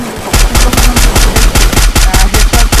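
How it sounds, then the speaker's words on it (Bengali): Rapid automatic gunfire comes from a first-person shooter video game during a bot tournament match ending in a headshot. The burst is loud and close, with about a dozen evenly spaced shots in under three seconds. "হেডশট দিয়ে দেওয়া হয়েছে"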